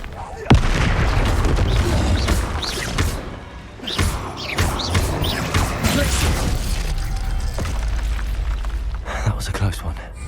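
Confringo fire-blast spell in the PS5 game Hogwarts Legacy during a Forbidden Forest battle, a sharp blast with heavy booming rumble followed by continued combat impacts and thuds, loud and dense, with voices heard over the action.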